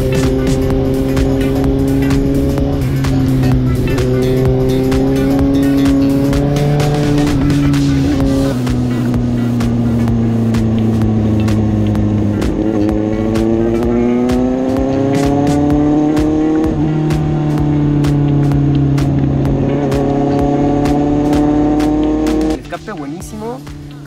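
A Suzuki GSX-S 750 motorcycle fitted with an aftermarket MIVV dual-outlet titanium exhaust runs steadily and loudly close by, its engine note rising and falling in pitch, with a voice talking over it throughout.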